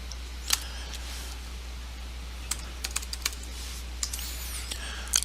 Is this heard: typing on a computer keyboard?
yes